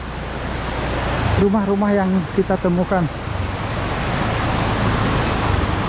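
A shallow, rocky river flows in front of a remote village at the forest edge. It makes a steady, broad rushing wash, and someone speaks briefly over it partway through.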